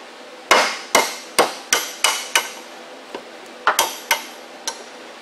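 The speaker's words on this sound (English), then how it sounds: "I'm going to use a cold chisel and a hammer." A hammer striking a cold chisel set on a universal joint ring, about a dozen sharp, loud metallic blows in an uneven rhythm, close up with no talk.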